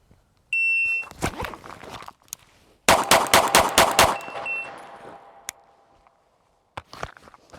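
A shot timer's sharp electronic beep opens, followed by a rapid string of pistol shots at an outdoor range, loud and closely spaced with a pause and a few further shots, echoing briefly before quiet returns.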